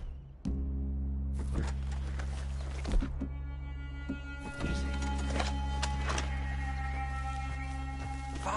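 Horses on a dirt trail in an Old West game setting, with hoof clops and snorts over a steady low hum, while riders dismount near a cabin.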